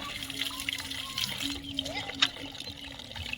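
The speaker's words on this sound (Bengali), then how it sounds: "জলটা একটুখানি টানলেই তো আসছে" Water gushing and splashing from a newly installed tube well hand pump, a fairly quiet trickling splatter under children and adults talking throughout.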